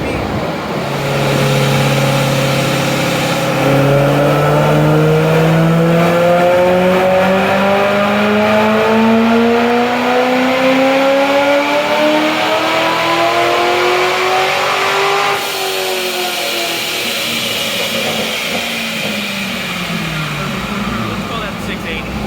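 A supercharged base-model C6 Corvette on a dyno revs hard and continuously, its engine pitch climbing steadily for about fifteen seconds before letting off and dropping, loud and close throughout.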